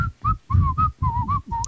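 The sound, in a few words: person imitating the whistling from Sitting on the Dock of the Bay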